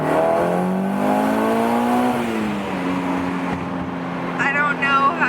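A Mitsubishi Evo 9 accelerates hard from inside the cabin, its engine pitch climbing and then settling after a shift into a steady drone, with a voice briefly speaking near the end.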